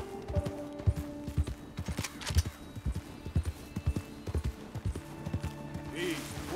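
Horse hoofbeats in the video game Red Dead Redemption 2 clip-clop in a steady trotting rhythm, close and clear, with occasional talk in the background.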